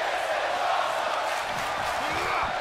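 Indoor wrestling crowd roars and cheers continuously, a dense loud wall of voices with occasional whoops rising over it.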